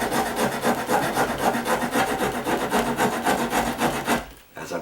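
A hand rasp files the wooden bottom edge of a door in close, rhythmic back-and-forth strokes, a dry scraping that runs steadily and stops near the end.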